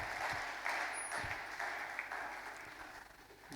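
A church congregation applauding, a dense wash of many hands clapping together that holds steady and fades slightly toward the end, with no voices.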